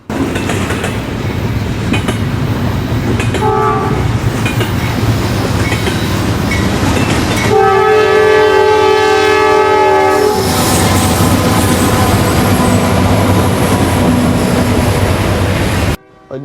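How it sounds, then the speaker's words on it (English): NS 4638 West, a freight train, pulls away from a stop with a steady low rumble of engines and rolling cars, while a loud sustained horn blast sounds for a few seconds midway, near and prominent throughout. "Meanwhile, NS 4638 West starts from a stop."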